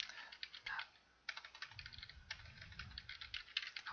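Quick, close keystrokes on a computer keyboard fill free-text fields in eye exam software. The soft clicks come in short bursts with a brief pause, and a faint voice sits underneath.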